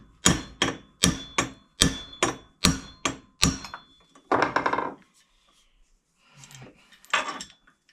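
An old woodworking chisel is jammed into a gap and struck with a hammer to pry it open: eight rapid, evenly spaced sharp blows ring out up close, followed by a couple of fainter scrapes and knocks.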